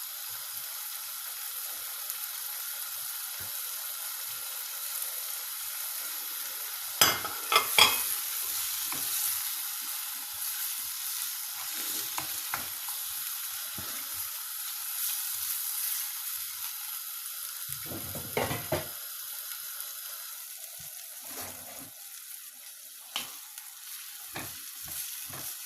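Chicken liver with onion frying in a pan, a soft continuous sizzle broken by several sharp bursts and scraping stir strokes, some louder clatters near the start and middle, no speech.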